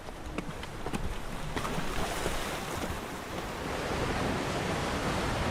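Turbulent sea waves at the Firth of Forth harbour roar in a continuous wash of surf, mixed with gusting wind buffeting the microphone, with no talking.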